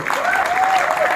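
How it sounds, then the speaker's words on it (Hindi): An audience claps loudly for Atika Farooqui as she comes on stage at the Jashn-e-Rekhta festival, a brief dense burst of applause with a faint tonal sound over it. "जोरदार तालियां आतिका के लिए"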